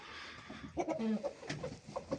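A rooster clucks in a short series of nearby calls, alone with no talk, in a setting of breeding roosters and eggs sold for hatching.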